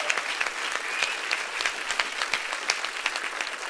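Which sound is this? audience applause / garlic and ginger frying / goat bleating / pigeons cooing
audience applause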